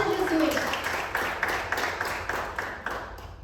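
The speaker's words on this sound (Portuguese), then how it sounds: "Clap your hands for Jesus." A church congregation claps rhythmically for Jesus, an even beat of many hands repeating steadily and moderately quiet, with voices beneath it.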